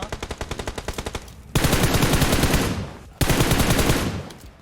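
Loud, close automatic gunfire from an MP submachine gun in PUBG Mobile, first a rapid run of distinct shots, then two long dense bursts, with no speech over it.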